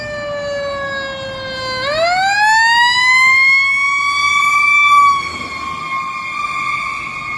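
A Henrico fire truck siren sounds loud and close, starting on a steady tone, then sweeping upward into a sustained wail that holds high before easing slightly, with no voices over it.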